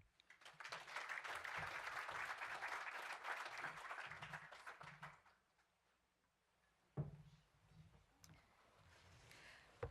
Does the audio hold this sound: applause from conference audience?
yes